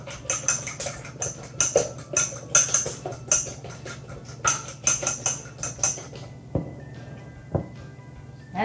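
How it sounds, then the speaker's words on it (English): A metal spoon stirs ingredients in a pan at a youth 4-H cooking camp before cream is added, with a quick run of close, bright clinks and scrapes that thins out into a few scattered taps over a low steady hum. "We're going to get those stirred up."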